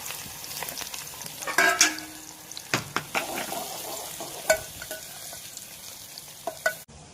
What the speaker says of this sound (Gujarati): ડુંગળીનો વઘાર